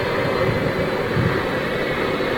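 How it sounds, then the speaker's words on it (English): A Jet2 Boeing 757 with Rolls-Royce RB211 engines at Manchester Airport gives a steady, loud broadband jet roar that fills the moment without letup, with no voices. "Which is why you can hear those RB211s."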